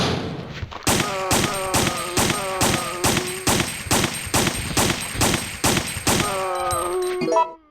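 Rapid gunfire in Resident Evil 3: Nemesis, about a dozen loud, evenly spaced shots with ringing metallic tails, close and alone.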